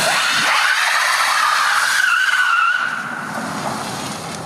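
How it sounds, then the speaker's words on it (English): Front-wheel drive electric car doing a smoky burnout, a loud continuous tire squeal with a wavering screech that eases off slightly toward the end, no engine roar or voices. "I just did a front-wheel drive burnout down the backstretch of our office building"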